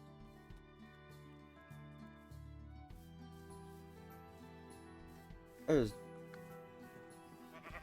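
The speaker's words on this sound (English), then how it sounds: "That's a pink sheep!" A Minecraft sheep lets out a single short bleat partway through, over in-game ambient music and background game sounds.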